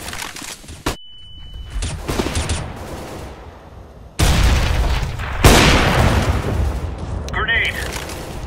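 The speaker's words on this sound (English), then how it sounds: "flashbang." A flashbang bursts in Counter-Strike: Global Offensive with a high ringing tone afterward, followed by heavy rounds of close gunfire and booming blasts, with voices talking over the action.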